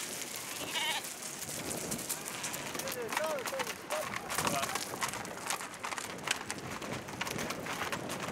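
Sheep on a Patagonian estate bleat faintly in the distance while a narrator speaks steadily over the scene.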